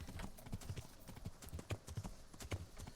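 Horse hooves clip-clop at a steady trot in the medieval game Kingdom Come: Deliverance at night, a continuous close rhythm of hoofbeats with no pauses.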